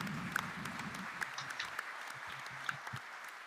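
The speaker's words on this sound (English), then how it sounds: "Would you like a round of applause?" An audience at an energy conference gives a round of applause, scattered clapping that thins out and tapers over a few seconds.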